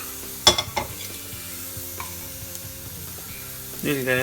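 Chicken sears in a hot pan with a steady sizzle, broken by a few clanks of utensil on pan. A voice speaks briefly near the end.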